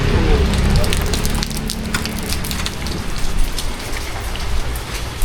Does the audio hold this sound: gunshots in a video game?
no